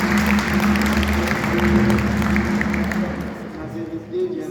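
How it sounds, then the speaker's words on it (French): Applause from a church congregation during a Sunday African mass, a dense steady patter of clapping with a sustained tone underneath, easing off and thinning toward the end. "On peut l'applaudir"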